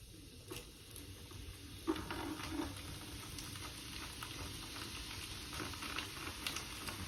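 Coca-Cola fizzing as Ping Eye2 copper golf irons are lowered into it, a quiet steady crackling sizzle with scattered ticks and a brief clunk near the start of the fizz.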